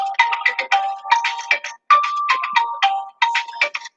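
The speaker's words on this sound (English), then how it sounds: "My phone's ringing and I can't answer it." A mobile phone rings with a loud, close electronic tune of quick tonal beeps in repeating phrases and short gaps between them, with no talk.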